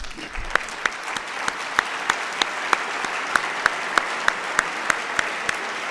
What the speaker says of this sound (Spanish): Yo le pediría un aplauso que se lo merece.